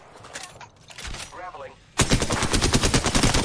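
Rapid automatic weapon fire in Apex Legends bursts in loudly after a quieter stretch with faint voices and game sounds, then continues as a dense stream of close shots.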